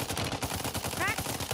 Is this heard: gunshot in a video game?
yes